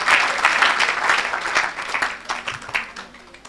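A church congregation bursts into applause and clapping, a dense burst of many hands that gradually thins and fades out over a few seconds.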